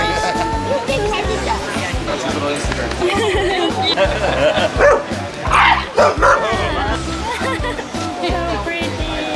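Dogs bark and yip amid chatter at a dog surfing contest on a Hawaii beach, with dogs in bandanas and aloha shirts; the barking is steady and fairly close, mixed with crowd noise and people talking throughout.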